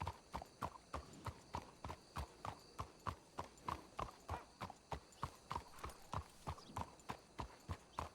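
Hooves of a horse clip-clop in a steady walking rhythm in the video game WildRP, crisp evenly spaced thuds close by with faint ambient noise underneath and no voices.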